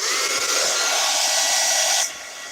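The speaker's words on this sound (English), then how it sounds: "I'm going to run the heat gun real fast to dry this" A heat gun blowing hot air to dry a journal page, a loud, steady airy whoosh that runs for about two seconds, then cuts off sharply, leaving only a faint hiss.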